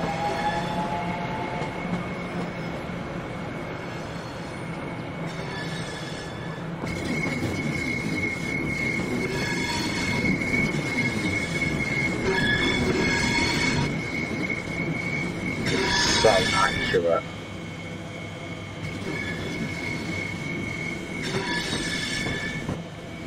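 A Class 465 electric train in Train Sim World runs steadily with a humming motor drone, wheel rumble and occasional squeals, loud and continuous with no voices.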